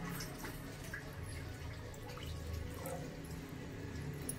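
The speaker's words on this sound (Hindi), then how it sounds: "एबे हमें पानी ऐड करने बा" Water poured into a pot while making a gourd (kunduri) curry gravy, a steady splashing, trickling stream heard close and continuous.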